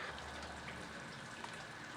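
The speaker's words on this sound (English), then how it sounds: "it's pretty steady rain out there" Steady rain falls outside a lean-to shelter in the woods, a faint, even hiss of drops pattering on surfaces with no voices.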